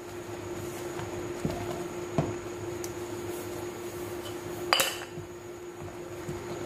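Amaranth seeds are stirred in a metal kadhai over low gas for chaulai laddu, giving a continuous gritty scrape with scattered metallic clinks and one louder clatter late on.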